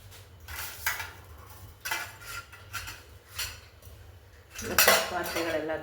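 Pots, dishes and cutlery are gathered into one spot in a home kitchen, producing several bursts of metallic clanking and clinking, ending in a louder clattering pile-up, with no voices.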